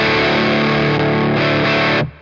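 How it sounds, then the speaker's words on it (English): Overdriven electric guitar through a Beetronics pedal feeding a Wannabee, a thick, gritty sustained chord ringing loud and alone, then cut off abruptly near the end. "the overdrive sound."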